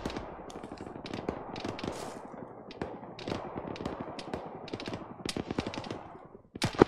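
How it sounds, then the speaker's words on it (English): Video game gunfire during a hill assault, with a dense, continuous stream of rapid automatic shots and sharp cracks. It runs loud throughout and grows heavier toward the end. "We're basically gonna fire through here."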